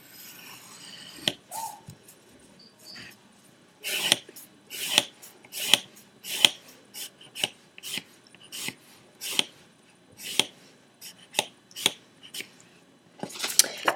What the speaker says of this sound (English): I'm going to cut these shapes out of foam